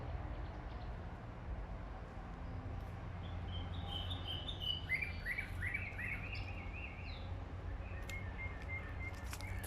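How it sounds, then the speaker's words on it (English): Soft bird chirps and short calls drift in from a distance over a steady low outdoor hum at the Nairobi Safari Walk in Kenya. "And there's so many birds here."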